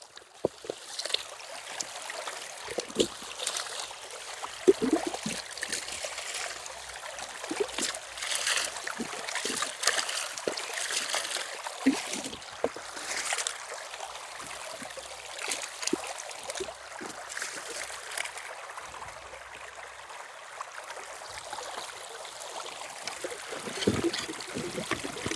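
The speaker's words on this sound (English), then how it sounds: "now we just got to rinse the sluice out" Water splashing and trickling as a gold sluice is rinsed out into a bucket outdoors near Uravan, Colorado, a steady, moderately loud stream of pouring and dribbling throughout with scattered sharper splashes.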